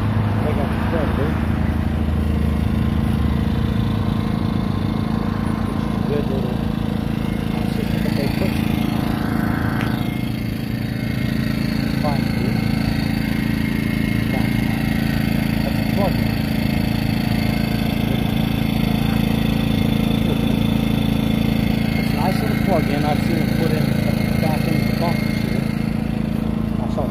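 A Predator generator engine runs steadily at a campsite beside an expediting van, a constant droning hum across the whole stretch, with people talking faintly in the background.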